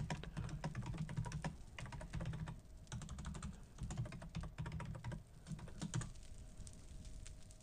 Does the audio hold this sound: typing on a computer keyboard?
yes